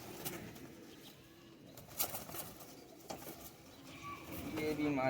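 High-flyer Kabuli pigeons coo softly at close range, giving a few low, muffled calls amid rustling and fluttering, with faint voices in the background.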